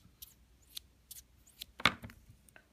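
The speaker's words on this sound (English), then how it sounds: "Now you use your scissors to cut it out." Scissors cutting out a paper figure drawn in Sharpie, a handful of quiet, crisp snips spaced irregularly, close and faint with no talking.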